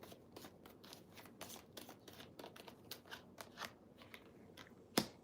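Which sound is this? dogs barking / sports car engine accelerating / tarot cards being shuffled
tarot cards being shuffled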